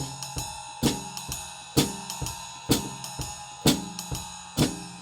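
Jazz swing groove on a drum kit with ride cymbal, hi-hat and bass drum, plus added snare hits. Crisp cymbal strokes and accented snare beats repeat in a steady swung pattern, played close and alone.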